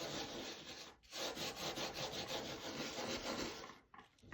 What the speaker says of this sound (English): you literally are just going to rub it into the image, like so